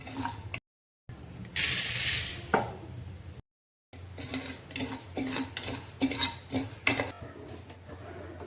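Chana dal and green moong dal dry-roasting together in a pan with bajra, stirred with a spoon that scrapes and clinks in an irregular rhythm, close and moderately loud, with two brief silent gaps.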